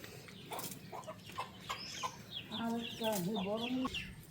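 A hen with her chicks clucks and cheeps in a yard, with a series of short calls building to a clearer, louder run of clucks toward the end, amid light background noise.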